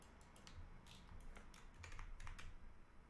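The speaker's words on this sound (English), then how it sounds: "I use my arrow keys, by the way," Arrow keys on a computer keyboard are tapped in quick, uneven bursts while an avatar is edited on a computer. The clicks are soft and close over a steady background hiss.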